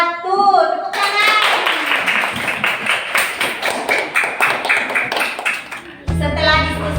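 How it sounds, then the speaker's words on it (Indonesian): Classroom applause for a discussion group in an Indonesian lesson: a few seconds of dense, steady clapping from a room of students, with brief speech before and after. "Tepuk tangan untuk kelompok 1."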